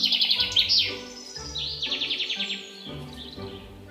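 A cartoon bird chirps in quick repeated trills, several bright bursts of tweeting close and clear over a soft musical background.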